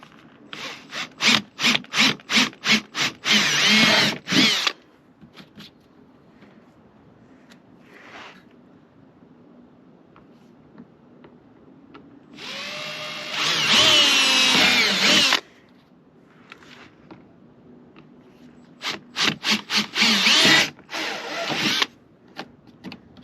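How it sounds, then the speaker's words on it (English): A power drill whirs in short bursts, then one longer sustained run, then more quick bursts, drilling bolt holes for fitting a car bumper, loud and close with quiet gaps between. "Drill your holes"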